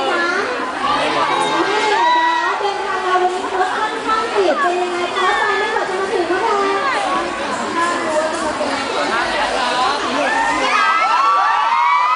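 A large crowd of fans at a shopping mall event screams and cheers without a break, with high, shrill shrieks rising and falling over dense, loud crowd noise.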